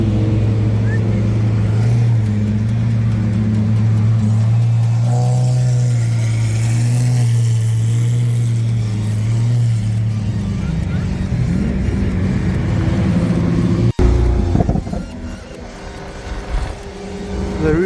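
A Lamborghini Aventador drives with its roof off on a mountain road in the African sun, its engine a steady, loud low drone throughout that roughens near the end, with other supercars in the group.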